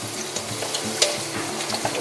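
Chopped shallots frying in a hot pan for a pork stir fry, a steady close crackling sizzle with a few sharper pops and spatters, no talking.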